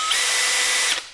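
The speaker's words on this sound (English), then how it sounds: "It just attaches to your chuck there on your power drill" A power drill whirs steadily for about a second with a Chemical Guys light duty spinner brush in its chuck, loud and close, then winds down quickly.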